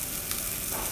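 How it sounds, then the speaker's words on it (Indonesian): Garlic and shallots sautéing in a small amount of oil in a wok, a steady close sizzle with stirring noise and no talking. "Sisakan minyak sedikit, tumis bawang putih, bawang merah"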